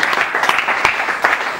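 Church congregation clapping together in a brief burst of dense, lively applause, close and even, with no voices standing out.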